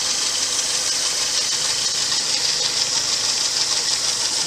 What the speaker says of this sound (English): You can hear the water pump running.